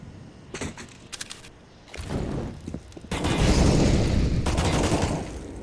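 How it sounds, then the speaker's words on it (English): Video game gunfire with tracers rattles in sharp bursts during an esports grand final match, building into a sustained, dense volley of shots toward the end. "He does see the tracers from the gunfire"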